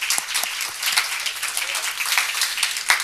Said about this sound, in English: For a round of applause for the Autodesk crew and Jason.